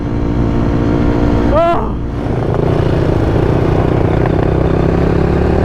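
A Honda CRF250R dirt bike engine roars loud and close at three-quarter throttle, a sustained buzzing drone with a brief rising-then-dipping rev change; a person exclaims over it.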